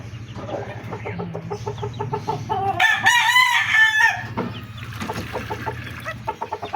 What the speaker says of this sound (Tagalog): May ano kami dito, yung fancy chicken.